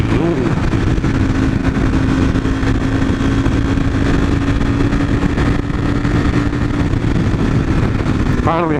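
Honda motorcycle accelerating past, a loud, continuous, droning engine with a steady tone close by for several seconds, rising into a revving sweep at the end.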